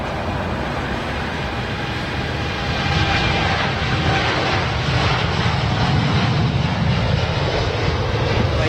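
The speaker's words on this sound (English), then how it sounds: "They just do seem to need a long run on the Dreamliner." A Boeing Dreamliner jet takes off at Heathrow Airport, its engines giving a loud, steady roar that swells slightly partway through the long takeoff run, with no voices over it.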